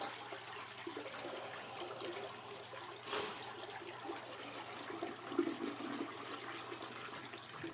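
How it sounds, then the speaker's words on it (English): A toilet flushes in a cabin or RV bathroom whose cold-water supply line to the tank holds pink antifreeze during winterizing; a steady rushing wash with a brief surge midway, running alone at moderate level. "So I'm just going to basically flush the toilet."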